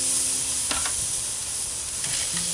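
Chicken wings sear over hot grill coals with a steady broadband sizzle and hiss, close and continuous, marked by a few brief clicks or shifts of the meat on the grate; no one speaks.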